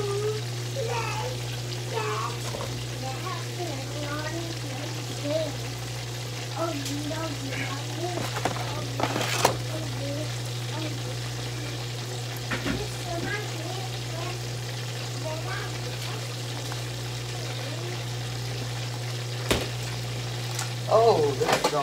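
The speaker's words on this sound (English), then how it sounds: "I know you can hear it frying." Fish frying in a pan gives a steady, fairly quiet sizzle and crackle throughout, with a low electrical hum and a few sharp clatters, while a person talks over it.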